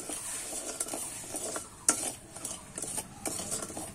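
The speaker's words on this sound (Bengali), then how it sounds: "আমি কিন্তু এবারে আস্তে আস্তে করে নাড়িয়ে ক্যারামেলটা আমি তৈরি করে নেব।" Sugar melting into caramel in a pan for Bengali mishti doi is stirred slowly, with soft scraping strokes and a light steady sizzle, plus one sharper clink of the utensil partway through.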